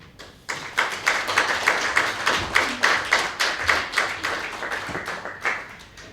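An audience applauds at a poetry reading, a dense burst of clapping that starts abruptly and holds steady, with distinct claps near the microphone, then slowly tapers off.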